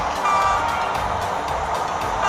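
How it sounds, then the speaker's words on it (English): A train engine gives a loud, steady rumbling roar with faint rhythmic pulsing throughout. "Yes, the sound of a train engine."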